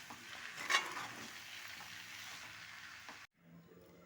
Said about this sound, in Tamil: ஃபைனலாக மல்லித்தழை போட்டு நம்ம கலந்து விட்டுடலாம்.